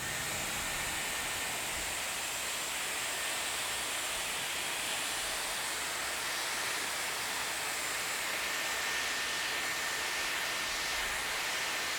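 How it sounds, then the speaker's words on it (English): Dyson Airwrap hair styler drying hair on its highest heat and highest fan setting, a steady broadband rushing hiss of blown air that holds evenly and close for the whole stretch, with no talking. "I want to see how quickly I can do this with the highest heat setting and the highest fan."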